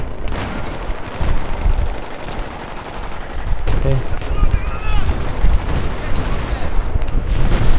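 Gunfire and explosions from the Battlefield 3 video game, with bursts of rapid shots and heavy booms close and loud, and a player's voice talking over them.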